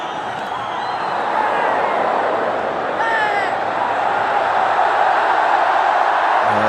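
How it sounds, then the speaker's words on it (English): Dense, roaring crowd fills a cricket stadium during an India versus South Africa match, a steady loud wash of voices and cheering with no breaks, and a few clearer shouts rising briefly near the middle. "it's a very noisy crowd"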